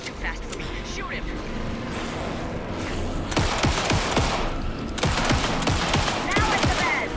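Rapid gunfire rattles in Alan Wake II, starting with a muffled low rumble and then breaking into two sharp bursts of repeated shots, all under a voice talking.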